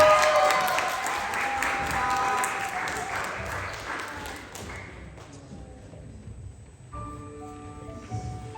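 Applause from an audience at a school literature day event, welcoming a ninth-grade student reader; dense clapping for about five seconds, then fading into a quieter room with faint tones and murmurs.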